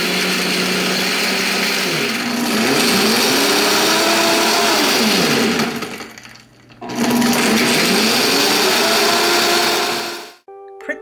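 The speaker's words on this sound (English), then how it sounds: "Let me let you hear how powerful this blender is." A powerful kitchen blender runs loud and close with a steady high whir, its motor pitch sweeping up and down as the load shifts, cutting out briefly midway and then stopping at the end.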